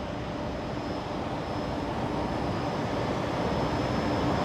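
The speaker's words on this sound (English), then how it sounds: "It's a Link Airways Saab 340 coming in from Armidale." A Link Airways Saab 340 turboprop landing at Brisbane Airport at night in rain, a steady loud engine roar throughout with no pauses, heard from nearby.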